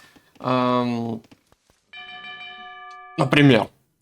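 Town bell in Age of Empires 2 rings as a bright sustained chime with evenly spaced harmonics, set between two short bursts of voice that frame it on either side.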